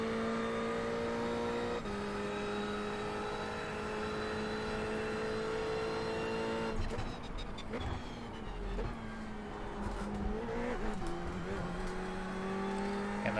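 Ferrari GT3 race cars in the iRacing sim roar continuously at high revs, engine notes shifting through downshifts and accelerations around a final chicane, loud and close throughout, with commentary talking over the engines.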